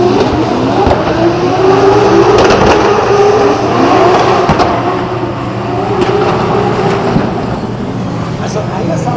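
A drift car at a Drift Masters night practice, a loud sustained engine roar with rising and falling revs and tire noise, continuing under a commentator's voice.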